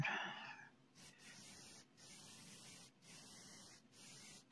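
Aerosol spray painting in a VR painting game: a steady, close hiss of spraying runs alone through the clip in several long bursts with short gaps between them.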